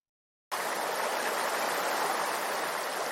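A countryside waterfall gives a steady, even rush of falling water that starts abruptly and continues alone without talk.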